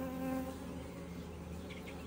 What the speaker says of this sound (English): It's a bee right by my face, and I get sketched out that it's in my suit, but it's not, so I can relax.